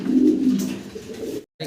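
Exhibition pigeons, blue-coloured birds at a pigeon seller's house, coo in a low, rolling murmur that runs steadily and then breaks off briefly before resuming near the close.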